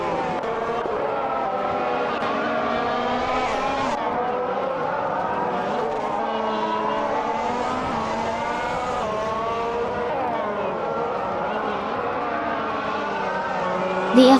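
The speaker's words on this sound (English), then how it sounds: "The F1 2014 cars are well suited for the Hungaroring's tight, technical layout." F1 2014 race cars howl steadily around the tight, technical Hungaroring circuit in a racing video game, a continuous loud engine whine with shifting pitch and several cars blending together.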